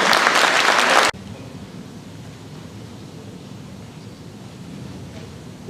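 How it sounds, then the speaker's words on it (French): A French-speaking assembly bursts into loud, dense applause for about a second before it cuts off abruptly, leaving low, steady room noise. "je vous invite à applaudir"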